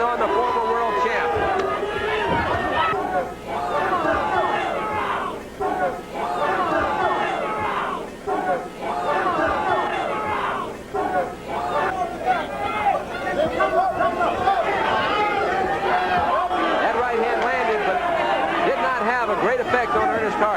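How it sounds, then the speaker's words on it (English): At a boxing match, an arena crowd roars and chants a fighter's name in a rhythmic, repeated pulse, a dense wall of voices throughout, with a commentator talking over it. "You hear the crowd chanting, Rudy, Rudy."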